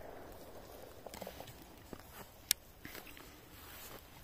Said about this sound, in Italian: Sta piovendo cartone da tutte le parti